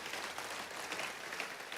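A church congregation applauds during a sermon, a continuous, even patter of many hands clapping, heard faintly and at a distance throughout, with no voices on top.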